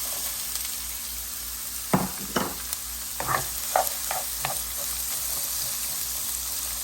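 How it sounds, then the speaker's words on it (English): Onion hitting hot oil in a pan for stewed cabbage: a low steady hiss rises into a few sharp crackling bursts and scrapes as the onion goes in and is stirred, close and moderate in volume. "So now the oil is nice and hot. We're just going to add our onion."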